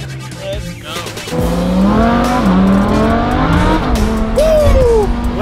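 A tuned Lamborghini with a BF Engineering tune accelerates hard, its engine note rising steadily and loud throughout, with crackling exhaust pops and a brief high squeal near the end.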